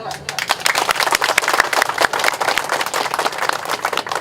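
Crowd clapping at an outdoor declaration gathering of street vendors in Andir, Bandung, a burst of scattered, uneven hand claps from many people, with voices talking and cheering among them.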